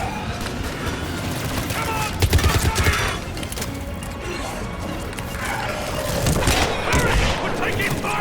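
Continuous gunfire from a Mass Effect battle, dense crackling shots and booming impacts layered together at close range, with voices speaking over the combat.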